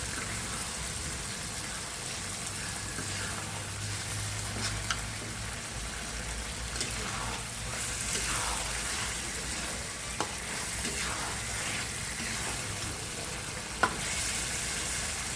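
Fish pieces frying in a pan with lemon leaves, a constant hissing sizzle with occasional clinks and scrapes as they are stirred, close up and without speech.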